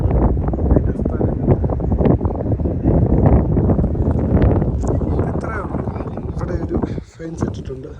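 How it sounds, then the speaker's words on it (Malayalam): Strong wind blows across an open hillside in Ooty, a loud, steady roar with constant buffeting that eases slightly and dips briefly near the end. "നല്ല കാറ്റിൻ്റെ സൗണ്ട്"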